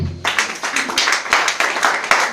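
A church congregation claps together in a loud, fairly regular rhythm of close, sharp claps.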